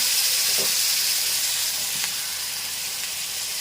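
Cucumber chutney with turmeric hits a hot tempering in a pan and sizzles loudly and steadily, a continuous frying hiss filling the whole stretch with no voices.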